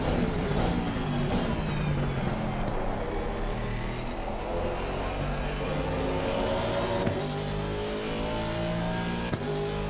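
A race car engine in the racing game LFM roars continuously, revving up and down through gears with rising and falling tones, loud and close, no talk over it.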